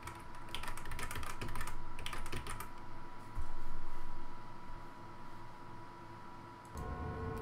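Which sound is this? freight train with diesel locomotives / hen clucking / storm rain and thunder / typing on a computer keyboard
typing on a computer keyboard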